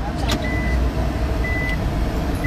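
A car reverses in traffic, with a steady engine rumble and road noise throughout and faint, spaced beeps, no talk heard.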